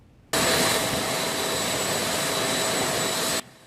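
A China Airlines Boeing 777 arriving in Taiwan with a vaccine shipment, heard as a loud, steady jet roar that cuts in sharply, holds for about three seconds, then stops abruptly.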